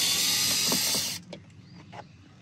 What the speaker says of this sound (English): Now that you got the 4 screws out for the cluster